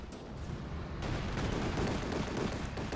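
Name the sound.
aircraft strafing run gunfire in video game Company of Heroes 2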